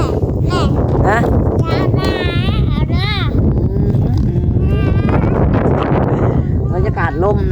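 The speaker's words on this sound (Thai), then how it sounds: "บรรยากาศลมนะพี่น้องวันนี้เนาะลมแห้ง" Dry wind blowing outdoors buffets the microphone as a steady roar throughout, while people talk over it and animal-like bleats come and go.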